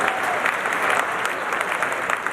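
Audience applause at a talk, a short burst of continuous clapping from a crowd, fairly close and steady throughout.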